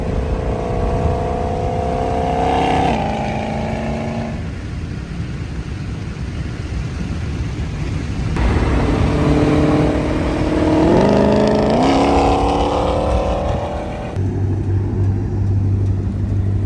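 A 2022 Ford Shelby GT500 engine rumbles loudly and steadily throughout, with rising and falling revs as the car drives, swelling near the middle and settling toward the end.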